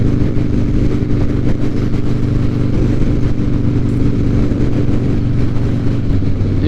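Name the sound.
Harley-Davidson motorcycle riding at about 75 mph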